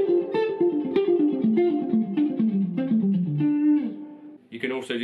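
Electric guitar plays a pentatonic phrase shifted across the beat, a steady run of descending and climbing single notes with a slight effects tone, close and prominent, ending in a brief scrape.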